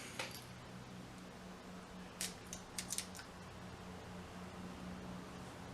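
An H. Upmann Cuban cigar is cut with a cigar cutter, giving a few quick, faint clicks and snips against a quiet room hiss.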